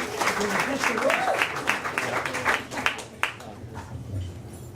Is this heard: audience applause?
yes